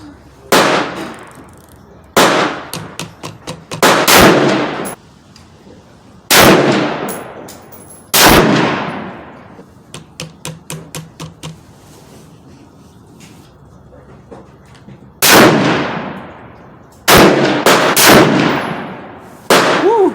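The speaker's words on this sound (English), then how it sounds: "he's shooting way high" A Savage Axis .308 rifle fitted with a Bushnell scope fires sharp, loud individual shots on a range, each crack followed by a ringing decay, with about seven spaced out over the stretch.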